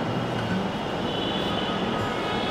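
A Dhaka Metro Rail train pulls into an elevated station on the Uttara route, a steady loud rumble and hum of the wheels and motors close by, with no one speaking.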